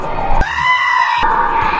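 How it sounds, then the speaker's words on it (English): A goat gives a single loud, close bleat lasting about a second, a wavering nasal cry in a noisy room. "a goat."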